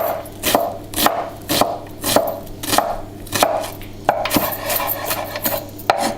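A knife chopping an onion on a board, with a dozen sharp, regular chops in a steady rhythm, close and loud, each one a crisp thud against the wood.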